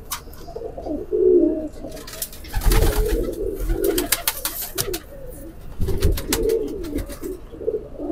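Rampuri pigeons coo in low, throaty bursts, repeated several times close by, mixed with sharp flutters and taps from their movement.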